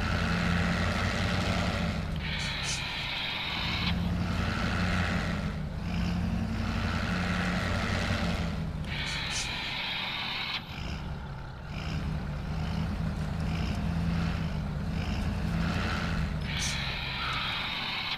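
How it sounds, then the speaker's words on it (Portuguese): A Mercedes truck engine roars in SnowRunner, a steady loud diesel drone with deep low rumble, rising and falling in repeated revving surges across the stretch. "escutem o ronco do motor"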